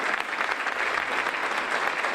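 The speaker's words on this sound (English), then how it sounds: "a round of applause for one of my best mates, Tim Shoesmith" An audience at the IBM British Ring Shield magic stage competition claps in a dense, steady round of applause that holds at an even level from start to finish.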